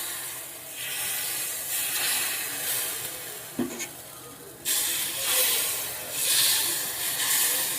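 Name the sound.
pitha batter poured into a hot mould, sizzling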